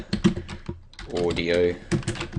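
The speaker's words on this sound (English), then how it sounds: "Sorry for a loud keyboard." Loud clacking keyboard typing in quick bursts, with a person speaking briefly in the middle.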